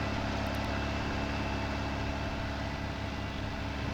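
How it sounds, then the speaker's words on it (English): Tractor engine labouring uphill in the Farming Simulator 19 video game, a steady, loud, low droning hum that holds constant throughout with no speech over it. "Tractor struggling up the hill,"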